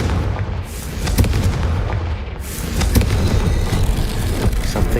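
An explosive blasting spell goes off in Hogwarts Legacy: loud booming impacts with sharp cracks over a dense rumbling roar, two distinct bursts standing out within a continuous, noisy din.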